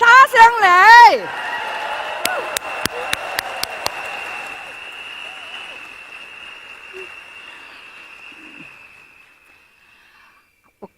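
A large seminar crowd of several thousand bursts into brief applause after someone speaks, followed by a few sharp claps and a long fading reverberant tail in a big hall.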